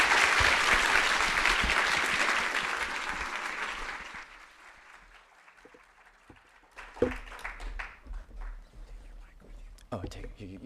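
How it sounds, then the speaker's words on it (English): An audience at a premiere event breaks into loud sustained applause that gradually dies away after about four seconds, followed by scattered murmurs, a few footsteps and light handling noises. "Please give them a round of applause."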